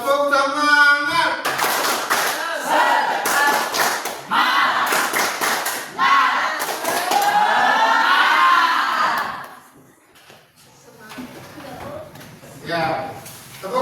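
A group claps the 'tepuk semangat' rhythm in tight unison bursts between loud shouted chants, then a pause with softer talk and a few scattered claps.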